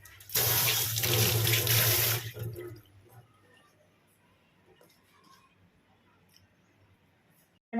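Tap water runs hard for about two seconds as hands are rinsed of flour batter in a home kitchen while making fried chicken, then cuts off, leaving faint rustling and quiet room noise.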